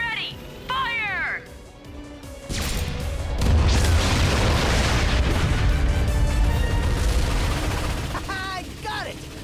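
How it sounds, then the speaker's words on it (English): A heavy cannon blast booms and rumbles for several seconds in the video game Ratchet & Clank on PS4, with sharp electronic chirps and zaps before and after. "Cannon's ready! Fire!"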